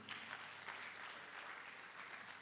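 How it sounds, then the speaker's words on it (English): Audience applause fills a conference hall for PMI Africa lead George Asamani after his talk on project management and empowering rising leaders: a steady, even wash of many hands clapping, fairly faint and distant, with no voices. "A round of applause for him."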